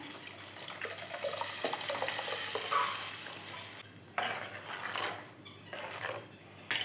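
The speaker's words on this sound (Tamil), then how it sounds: "சால்லாம் இதில் ஊற்றிக்கலாம்." Tamarind broth for fish curry pours and splashes into a pan, a continuous running wash that breaks into shorter sloshing bursts toward the end.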